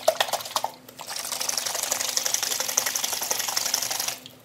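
A bottle of Beast Watson buffing oil, a mix of oils and waxes, is shaken hard during an XPC guitar kit build, giving a steady liquid sloshing and rattling for several seconds after a few brief knocks.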